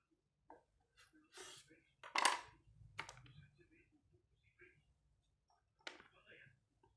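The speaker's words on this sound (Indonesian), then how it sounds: "Untuk tempenya kita irisnya begini pemirsa." A knife slices a block of tempe on a cutting board: a few sparse, crisp cuts and taps close by, separated by quiet pauses, with faint board knocks in between.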